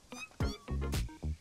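A cat creature meowing in the video game Satisfactory, several short, close, tonal mewing calls in quick succession, fairly faint.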